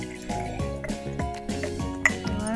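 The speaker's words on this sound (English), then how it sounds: "I'm going to dump the water inside my soap and see what happens." Water poured into blue liquid soap in a container, a steady trickling, gurgling fill with a few clinks and one sharp splash near the end, close and moderately loud with no voices.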